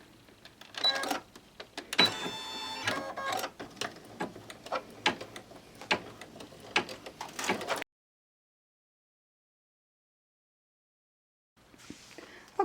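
An embroidery machine sews a placement stitch for an in-the-hoop RFID-blocking credit card wallet in a 5x7 frame, giving close, clicking mechanical bursts for about eight seconds, then a long silence before the stitching briefly starts again.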